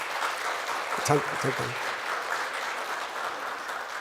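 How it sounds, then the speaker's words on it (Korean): A church congregation claps together in a steady wash of applause, with a brief spoken word from one voice partway through. "우리 말 나온 김에 박수 한번 해야 돼"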